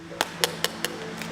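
Four sharp metallic taps on a sound food tin, evenly spaced and fairly close, each with a brief ringing tone, and a fainter fifth tap at the end.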